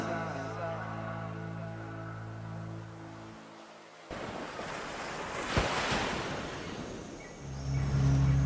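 Ocean waves wash onto a beach in a broad, rushing surf with wind noise and a rising swell near the end; sustained tonal music plays during the opening seconds before the surf takes over.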